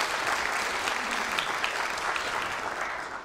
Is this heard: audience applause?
yes